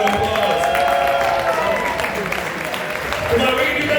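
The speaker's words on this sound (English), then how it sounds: "Give yourselves a round of applause." Audience applause at an awards gala in a Hard Rock Cafe, a loud steady wash of clapping with scattered cheers and some voices mixed in.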